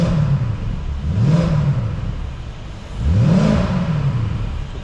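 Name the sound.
Mercedes SLK55 R172 5.5L V8 engine revving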